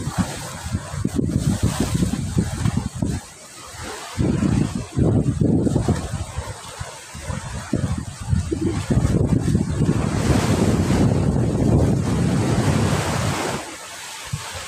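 Clear sea waves surging and washing in steadily at Santo Niño, Ticao, Masbate, with gusts of wind buffeting the microphone throughout.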